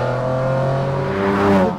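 A McLaren F1's engine revs steadily and loudly up close, with a smooth, harmonic drone that climbs slightly in pitch and swells toward the end.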